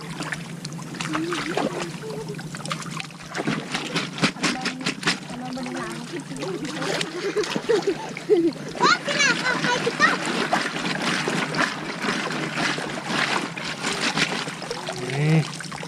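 Water splashing and trickling as mud is washed off freshly caught crabs and fish outdoors, irregular close splashes and pours running under ongoing talk.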